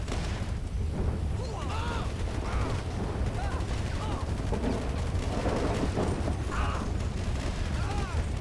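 Gunfire in the video game GTA 5, with sustained bursts of shots running continuously and loudly through the whole stretch, layered with game effects and dense noise.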